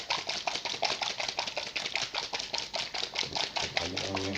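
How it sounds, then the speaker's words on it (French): A small dropper bottle of e-liquid mixed with nicotine and flavourings is shaken hard and fast near the mic, producing a steady run of quick liquid rattles and clicks at an even rhythm for several seconds. "je vais déjà secouer une première fois pour mélanger la nicotine et les arômes"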